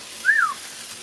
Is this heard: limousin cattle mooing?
no